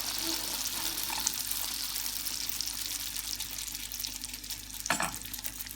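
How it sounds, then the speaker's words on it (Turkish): Yeast dough for puffed Turkish pişi sizzles steadily in hot oil in a pan, a continuous frying hiss with a brief louder splash near the end. "Tavamıza yağımızı koyduk, kızdırdık. Şimdi içerisine hamurumuzu alalım."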